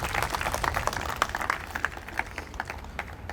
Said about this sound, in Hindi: तालियों की गड़गड़ाहट के साथ उनका स्वागत किया जाए।